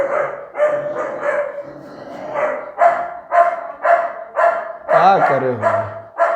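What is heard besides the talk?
dog barking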